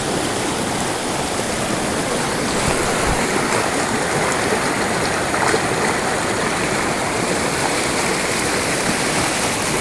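Fast-flowing river water rushing steadily and loudly, a constant broadband roar with no voices.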